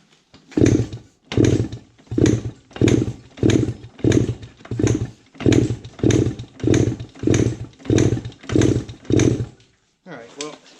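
A 1974 Honda MT125 Elsinore motorcycle engine runs in a string of about a dozen loud, evenly spaced rasping revs, each a short burst followed by a pause, close by, with a brief voice at the very end.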